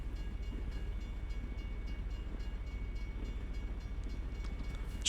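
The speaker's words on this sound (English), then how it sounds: "I don't know if I've ever seen a train this long in this game." A long freight train rolls past in American Truck Simulator, a steady low rumble with faint rhythmic clatter of wagons and no talking.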